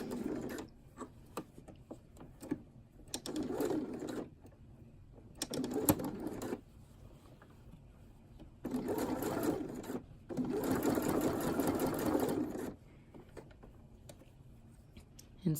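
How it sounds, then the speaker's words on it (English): A sewing machine stitches a zippered hood on a Pacific Pullover in several short, close bursts of a few stitches each, separated by brief pauses. "So you just want to sew, take it careful and just sew like a few stitches at a time"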